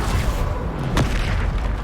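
A Bombarda spell explosion in a Hogwarts video game gives a loud, sharp blast, with a single boom cutting through steady game noise.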